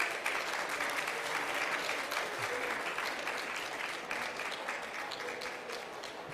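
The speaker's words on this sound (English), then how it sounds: "Another round of applause for our speakers on stage." Audience applause for speakers on stage at a formal loan signing event, a steady dense clapping that holds evenly throughout without voices over it.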